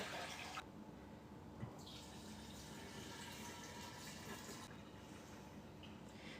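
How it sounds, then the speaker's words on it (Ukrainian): Water pours steadily into a three-litre jar holding sugar, yeast and citric acid for kvass, a faint continuous splashing fill with slight shifts in tone, no talking. "а ми сюди наливаємо до цукру, до дріжджів, до лимонної кислоти"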